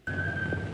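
A person whistles one steady, sustained note close by, clear and unbroken, with faint low hum in the background.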